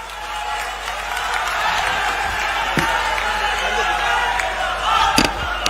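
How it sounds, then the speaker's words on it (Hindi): Crowd applause at an outdoor political rally after an address by Rahul Gandhi: a steady, dense wash of clapping that holds for about six seconds, with faint crowd noise mixed in. "जोरदार तालियां माननीय राहुल गांधी जी के लिए।"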